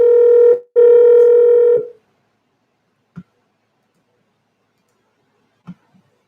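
Telephone keypad dialing tones play as a cell phone number is dialed. A few loud, sustained touch-tones come first, followed by silence broken only by two soft, brief clicks.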